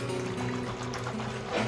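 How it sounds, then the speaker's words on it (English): Tap water runs steadily over freshly tumbled rocks being rinsed, a continuous close splashing pour with a faint trickle through the short stretch. "Give these guys a rinse."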